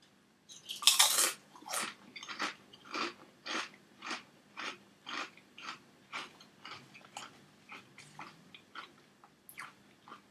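Tesco Finest Prosecco and Elderberry potato crisps crunched close to the mic: one big bite followed by a steady run of about fifteen rhythmic chewing crunches that fade slightly over ten seconds.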